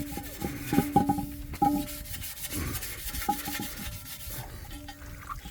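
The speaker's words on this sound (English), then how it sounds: "Scrubbing that aluminum" Scrubbing the inside of a dirty aluminum wheel rim caked with brake dust gives repeated close, rough rubbing strokes in an uneven rhythm, steady and moderately loud with no voices.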